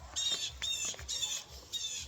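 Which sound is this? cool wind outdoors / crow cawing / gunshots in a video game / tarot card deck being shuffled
crow cawing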